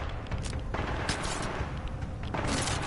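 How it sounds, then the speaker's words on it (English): Rapid bursts from a twin barrel SMG in the Mobile Suit Titan video game, loud sustained automatic fire with short breaks between strings, no voices. "Twin barrel SMG."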